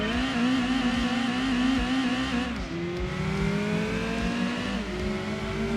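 A racing car engine in the PS1 video game Gran Turismo 2 roars steadily throughout, its pitch climbing and dropping between gear shifts, loud and close with no talking.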